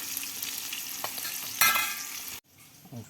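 Tofu and tempeh fry in hot oil in a wok, a dense steady sizzle with stirring scrapes and a brief louder crackle, which cuts off sharply near the end, leaving quiet bubbling.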